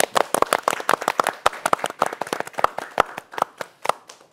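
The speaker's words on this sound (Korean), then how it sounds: "우리 모두 박수로 환영하겠습니다." A studio audience claps in welcome, a brisk run of close, distinct hand claps from a modest crowd, loud and uneven throughout.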